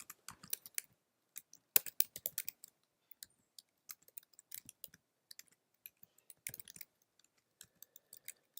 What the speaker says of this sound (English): And I'm just going to start typing.